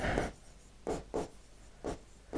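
Chalk or marker strokes on a board during a classroom lesson: a handful of short, scratchy scrapes in irregular rhythm, faint and close, with no talking.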